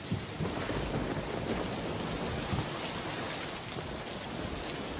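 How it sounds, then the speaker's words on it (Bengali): Heavy cartoon downpour with rumbling thunder, a dense steady hiss of rain pouring onto surfaces that stays loud and unbroken throughout, with no voices. "বাহিরে ঝমঝম করে বৃষ্টি শুরু হয়ে গেল।"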